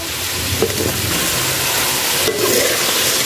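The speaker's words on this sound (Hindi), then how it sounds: "अब ये जो बाकी का ऑयल है अब हम इसमें डालेंगे प्याज लंबाई में कटे हुए इसको अच्छी तरह मिक्स करेंगे" Lengthwise-sliced onions go into leftover oil in a pan for bhindi masala and are stirred, giving a loud, steady broadband sizzle with a few brief scraping stirs.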